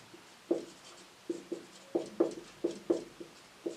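Chalk or marker writing on a board during a maths lesson, short tapping strokes in uneven bursts, a little distant and moderately quiet, with no talking.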